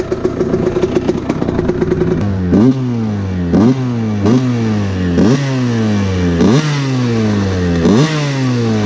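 A Kawasaki KX125 two-stroke dirt bike idles after a kick start, first a rapid rattly putter, then repeated revs that rise and fall roughly every second, loud and close with no talk.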